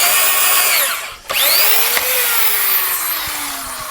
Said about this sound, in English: take my other drill and actually clean out the hole and make a clean pocket